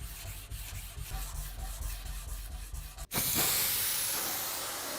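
Abrasive rubbing on a giant rusted butcher's cleaver blade, a steady scratchy sanding texture that gives way to a sharper, brighter hissing scrape partway through, close and continuous.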